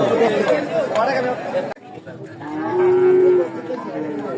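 Cattle, including heifers, moo amid the chatter of a busy crowd at a livestock market; one long, low bellow rises clearly over the background voices.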